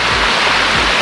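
Napittachhara waterfall in Mirsarai, Chattogram, roaring as a loud, steady, unbroken rush of falling water heard up close.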